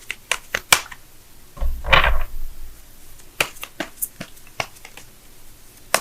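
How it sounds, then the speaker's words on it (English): Tarot cards are shuffled by hand in quick bursts of crisp riffles and taps, with one longer rustling flurry in the middle, close and fairly quiet with no talking. "let me go ahead and shuffle right fast"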